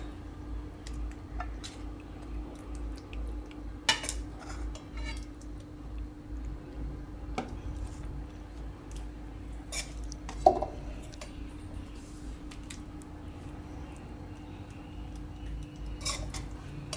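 A spoon scrapes and clinks against a dish while tomato peanut curry is served, with scattered quiet taps and clatters over a low steady background hum.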